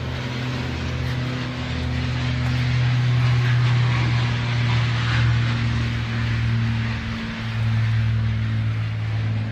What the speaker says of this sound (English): I'm gonna wait for that plane to go by.